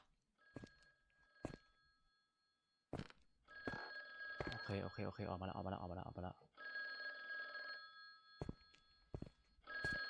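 Telephone ringing in the horror video game The Guest, a bright electronic bell repeating in long rings with pauses, while someone talks excitedly over it and footsteps thud between rings.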